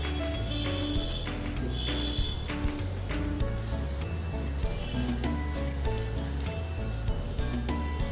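Aloo paratha frying in ghee on a hot pan after being flipped, a steady dense sizzle that runs loud and unbroken throughout, with a faint low music bed underneath.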